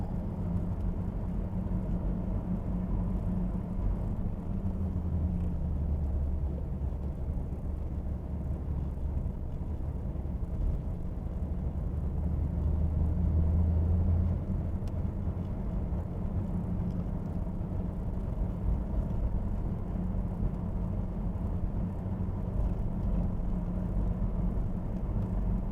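A Nissan Skyline R33 GT-R with its RB engine drives along, a steady low engine rumble and road drone heard from inside the cabin with no talking.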